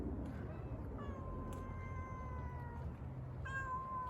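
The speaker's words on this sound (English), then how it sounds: "Let's go back to the cat fights." Cats caterwauling and yowling at each other outdoors near a bromeliad archway, drawn-out wavering cries rising over a steady background hiss, moderately distant and fairly faint.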